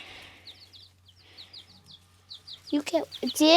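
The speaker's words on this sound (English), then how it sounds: "So these are the chickens." Baby chicks peeping on a homestead, a run of short high chirps at moderate distance, followed by a person talking near the end.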